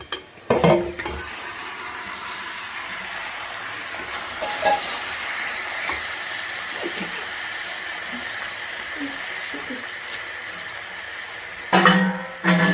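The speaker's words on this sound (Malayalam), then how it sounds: "ഇനി നമ്മൾക്ക് ഇതിലേക്ക് നേരത്തെ നമ്മൾ മാരിനേറ്റ് ചെയ്ത് വെച്ച ചിക്കനാണ് ഇതിലേക്ക് ചേർത്ത് കൊടുക്കുന്നത്." Marinated chicken for Malabar pidi hisses and sizzles in a hot pan, a steady close frying hiss with occasional scraping stirs and clatters, louder bursts near the start and end.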